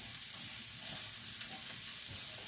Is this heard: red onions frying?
yes